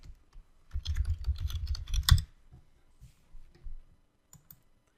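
Bursts of rapid key clicks on a computer keyboard, a dense flurry of typing followed by a few scattered, softer keystrokes, close and clear with no talking.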